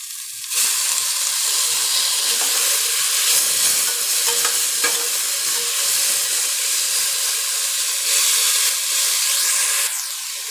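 Tomatoes, onions and curry leaves sautéing in a pan for green pea pulao give a steady, close sizzle with occasional scrapes of a stirring spoon, running nearly unbroken throughout.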